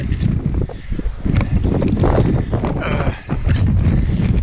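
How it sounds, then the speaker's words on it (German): Strong wind roars steadily across the microphone, loud and buffeting throughout, with gusty low rumbling. "Der Wind kommt im Moment von innen."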